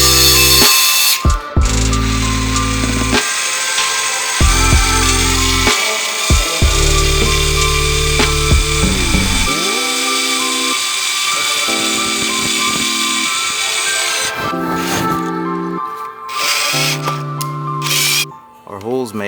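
A power tool cuts a hole through the intake manifold of a Mk8 Golf R, loud and close, starting and stopping in bursts and then running steadily before trailing off.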